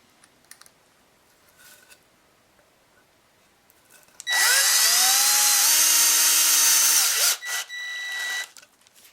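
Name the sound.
power drill driving screws into wood through rope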